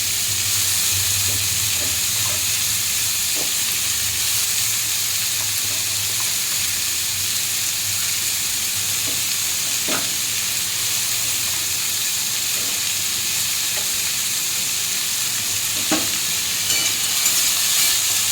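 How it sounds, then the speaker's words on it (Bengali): Chopped capsicum and onion fry with garlic in butter, giving a loud, steady sizzle with faint scraping stirs now and then, heard alone without talk. "দুটোকে রসুন আর ক্যাপসিকাম, পেঁয়াজ একসাথে একটু হালকা ফ্রাই করে নেব।"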